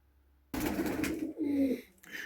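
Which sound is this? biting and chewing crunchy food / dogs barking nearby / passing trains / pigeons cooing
pigeons cooing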